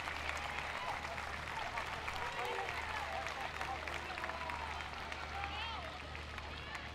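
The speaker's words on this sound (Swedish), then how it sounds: "Och får applåder av publiken." An audience at an ice hockey game applauds in a steady, dense wash of clapping heard from a distance, mixed with crowd murmur and arena hum, while a voice talks faintly underneath.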